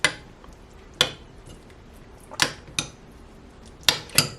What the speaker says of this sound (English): I'm just going to stir all this together.